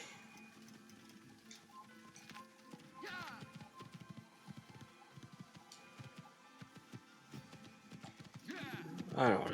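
A horse in the Assassin's Creed video game trots with soft, steady clip-clop hoofbeats, faint in the mix, while a French-speaking player talks over it.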